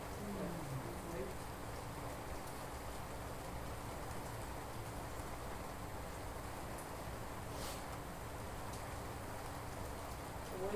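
Heavy rain falling steadily outside a church gathering, a dense, unbroken hiss of drops for the whole stretch, loud and even, with faint voices underneath.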